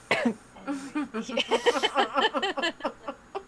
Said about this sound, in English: That's like the second time you're coughing.